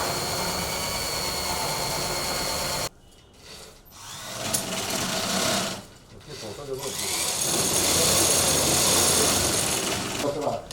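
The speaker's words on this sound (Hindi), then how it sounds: "ये सिलाई के लिए कटिंग की जा रही है" Khadi cloth cut for stitching vests in a village workshop, a steady machine-like whir and rasp that drops out briefly, then returns louder, with people talking over it.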